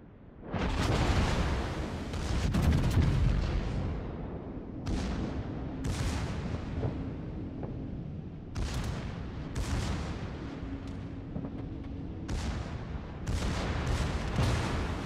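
Naval guns fire in a World of Warships battle, the torpedo bombers inbound, as a string of heavy booming salvos roll out at irregular intervals, each with a long rumbling decay, loud and close with no talk over them.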